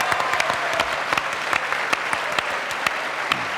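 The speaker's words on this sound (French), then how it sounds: "Alors, applaudissements pour monsieur Willy pour tout ce qu'il vient de nous faire" Studio audience on a French television variety show applauding steadily, a dense close wash of many clapping hands at an even level throughout.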